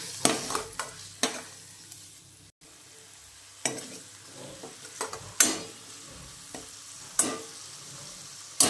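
A spoon stirs spices, coriander powder and chutney powder in a hot pan over a soft sizzle, with a run of sharp scraping strokes that come at an uneven rhythm, close and moderately loud.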